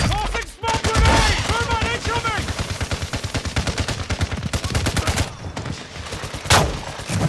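Rapid bursts of close, loud gunfire from a shotgun and other weapons in the video game Call of Duty: Modern Warfare II, with dense repeated blasts running throughout and voices shouting over the fighting.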